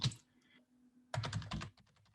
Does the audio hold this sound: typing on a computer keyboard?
yes